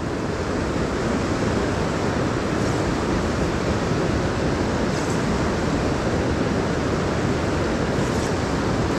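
The Seti River at Bagati Ghat runs with a continuous broadband rush of fast water, loud and unbroken for the whole stretch, with no voices over it.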